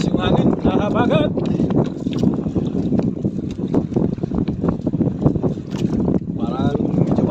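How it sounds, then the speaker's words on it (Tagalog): Strong wind roars steadily and loudly across the microphone on a small fishing boat out at sea after king mackerel, with a voice speaking briefly at the start and again near the end. "Takas yung hangin, nahabagat."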